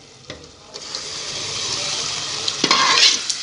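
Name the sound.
saag greens sizzling and stirred in hot tempering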